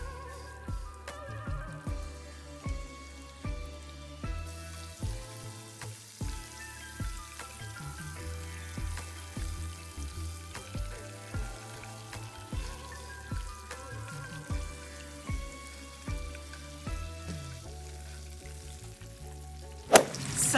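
Seasoned fish for Escovitch fish fries in a pan, a gentle crackling sizzle with a repeating pattern of soft pops and faint stirring, fairly quiet and close, no voices.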